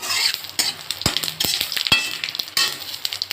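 Cumin seeds and spices crackling in hot oil while tempering for a gathi kochu curry, with repeated sharp clinks and scrapes of a metal spoon against the pan over a light sizzle.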